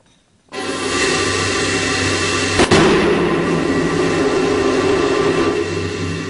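Space shuttle solid rocket boosters separate explosively: after a brief quiet, a loud roaring blast surges in and holds, with one sharp bang about two seconds later, then the roar continues.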